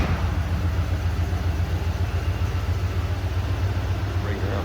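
A 302 V8 in a 1977 Ford F100 Ranger XLT idles quietly and smoothly, a low steady rumble close by throughout with no other sound over it.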